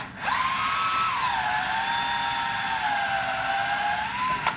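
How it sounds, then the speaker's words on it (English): A power drill whines steadily as it widens holes in parts for a six-cup turner, a loud sustained motor tone starting and stopping cleanly, close and alone. "So what I've been having to do is take my drill."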